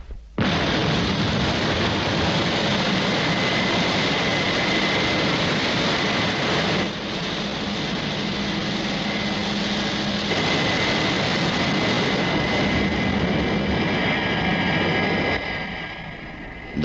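A Thunderbirds rescue aircraft roars on takeoff in a French-dubbed TV episode, a loud steady jet-engine rumble holding for most of the stretch before easing slightly at the end.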